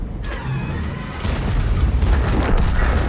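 A loud, dense burst of tank cannon shell explosions in World of Tanks, from a Bat.-Châtillon 155 58, with crackling debris, rumbling continuously and building in intensity toward the end.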